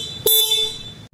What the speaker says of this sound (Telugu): నెక్స్ట్ ఇంకా ఇక్కడ సింగిల్ హార్న్ ఇచ్చారు,